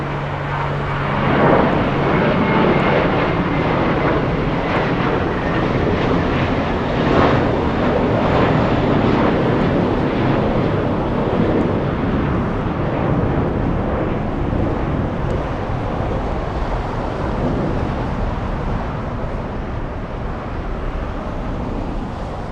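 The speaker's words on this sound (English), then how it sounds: "Let's go for the takeoff. We have an American Airlines" An American Airlines A321 airliner takes off in a continuous, loud, broadband jet roar that holds steady throughout with a faint whine, heard close and alone with no talking.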